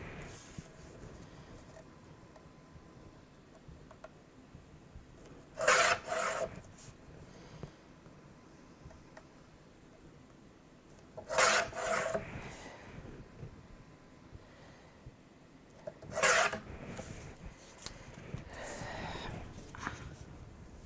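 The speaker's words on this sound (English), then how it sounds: "I'm going to take this over to my big trimmer to clean it up a little bit" A large paper trimmer cuts a small file folder in three separate strokes spaced several seconds apart, each a brief, close, sharp slicing burst over a quiet room.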